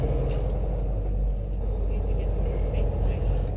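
An automatic car rolls along with a steady low engine and road rumble from inside the cabin, a voice speaking briefly over it.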